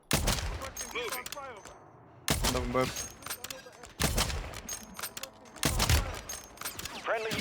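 Gunfire in Warzone 3 multiplayer: repeated bursts of shots in several separate volleys, loud and close, mixed with players talking over voice chat throughout.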